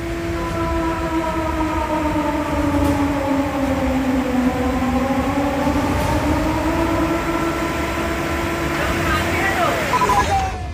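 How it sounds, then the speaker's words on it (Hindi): Warning siren wailing during flood coverage in Assam, a sustained tonal howl with stacked harmonics that dips and rises slowly, loud over rumbling background noise, with a voice talking at points. "सायरन की आवाज के साथ ये चेतावनी साफ साफ सुन लीजिए"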